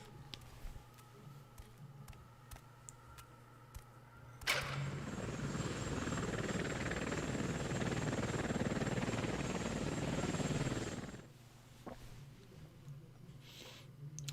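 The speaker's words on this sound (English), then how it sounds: "Yes, the helicopter. There was a helicopter boss in the original game, I believe." A helicopter boss in the PlayStation 2 game Shinobi gives off a loud, steady rotor roar that swells in and holds for several seconds, then cuts off abruptly, with quieter game sounds before and after.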